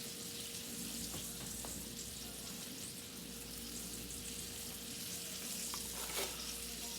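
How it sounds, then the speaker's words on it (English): French fries frying in hot oil, a dense steady sizzle and crackle that holds level throughout with no voices over it. "The fries are cooking."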